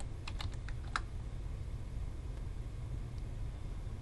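A few quick computer keyboard clicks as a diameter is typed into CAD drafting software, a brief close burst early on followed by quiet room hum.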